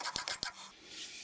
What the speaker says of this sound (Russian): А мелкие неровности по старинке снял стеклом.